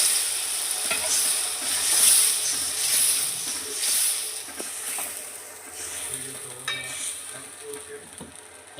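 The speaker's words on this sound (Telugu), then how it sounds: "కొద్దిగా వాటర్ వేస్తున్నానండి" Water poured into a hot pan of gongura chicken sets off a loud sizzling hiss that swells and fades with stirring and scraping underneath, and no voice is heard.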